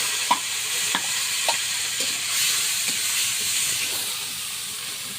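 Spices for a fish curry fry steadily in a hot pan with a constant sizzling hiss, broken by a few soft stirring clicks at irregular intervals, close and alone with no talking.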